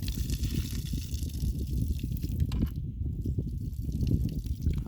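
Water splashes and trickles steadily as it drains off soaked rice, a close wet pouring sound with a brief lull partway through.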